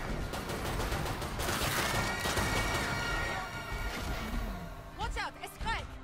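Rapid bursts of gunfire in the video game Killing Floor 2, dense overlapping shots and crashes during a boss battle, loud and continuous, with game voices and effects chirping near the end.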